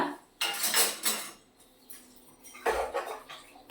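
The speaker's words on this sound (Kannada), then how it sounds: "ಕುಕ್ಕರ್ ಮುಚ್ಚಳ ಹಾಕಿ ಬೇಯಕ್ಕೆ ಇಡ್ಬೇಕು" A metal pressure cooker lid is set in place on a home stove while chicken gravy is being cooked, giving a few close, sharp metallic clanks and scrapes in short bursts with quiet gaps between.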